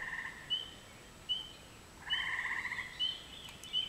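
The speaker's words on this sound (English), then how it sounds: "We have two or three kinds of frogs screaming out there." Frogs of a few kinds calling outside at night, with sharp repeated chirping croaks and a longer trilling burst at moderate distance, no voices heard.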